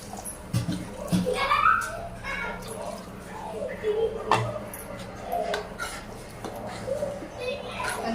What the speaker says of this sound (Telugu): చూడండి వాటర్ పోస్తున్నాను